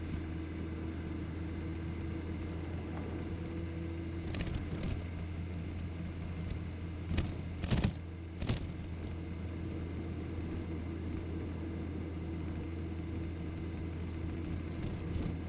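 Steady wind and engine rumble from a motorcycle ride, heard from inside a helmet with the visor closed and a Sena 50C communicator fitted, a continuous muffled roar with a few brief louder gusts midway.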